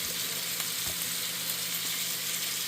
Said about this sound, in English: our water's boiling, so we're just going to pour our ziti in there